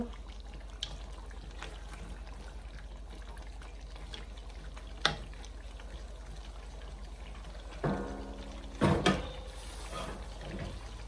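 Water poured into a pot of duck curry (hanh bhuna) after the spiced meat has been browned, a soft background pour with a few sharp clatters and a louder splashing burst near the end.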